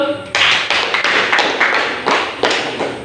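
Students in a classroom clap together after a group presentation, a dense burst of hand claps with several sharp surges, close and fairly loud, with no talk over it.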